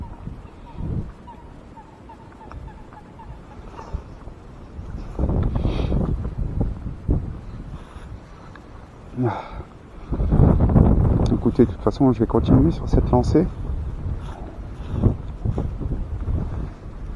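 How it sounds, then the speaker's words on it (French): Wind buffets the microphone in uneven gusts while fishing near a dock, rumbling loudly at times, while someone talks over it and birds honk faintly. "le vent se calme un petit peu, c'est parfois, hein, c'est des rafales"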